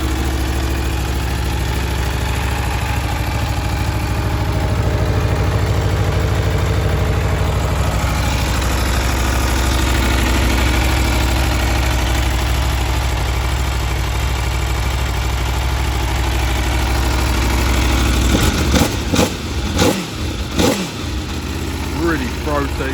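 A 2022 Aprilia Tuono V4 1100 on its standard exhaust idles with a deep, steady, throaty drone close by for most of the clip, then gives a few short blips of revs near the end.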